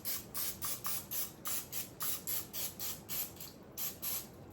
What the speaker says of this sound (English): So I'm going to spray mine down with a little bit of spray oil.